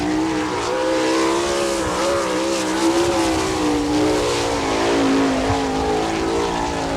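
A sprint car, number 15, runs a qualifying lap at Attica, Ohio, during the All Star Circuit of Champions Speedweek finale. Its engine drones loud and steady for the whole stretch, the pitch rising and falling as it works around the track, with no talk over it.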